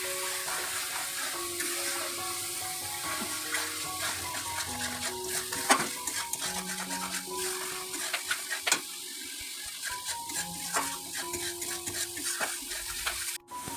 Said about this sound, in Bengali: এবার আমি ভালো করে এটাকে কষিয়ে নেব।